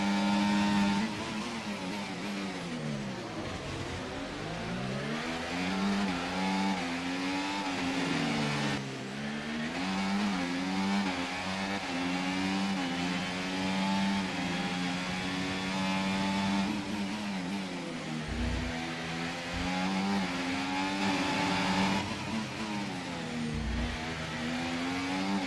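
An F1 race car engine in a racing video game revving continuously at high pitch. The note rises and falls through gear changes as the car accelerates and slows, loud and sustained throughout with no talking.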